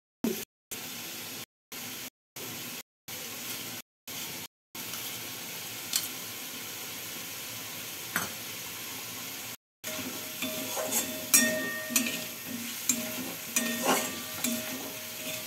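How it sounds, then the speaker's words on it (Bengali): Gobindobhog rice being fried and stirred in a pan for a vegetarian potol curry, with a soft steady sizzle, scraping stir strokes and brief gaps, growing louder and more crackly toward the end. "গোবিন্দভোগের চালটা দিয়ে একটু কষাতে হবে।"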